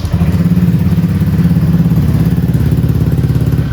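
Honda motorcycle engine running at a steady idle right after starting, a close, loud, even low-pitched putter with rhythmic pulsing throughout and no talk.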